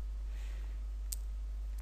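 A computer mouse clicks on a login button, giving one crisp, distinct click over a low electrical hum, followed by a fainter second click.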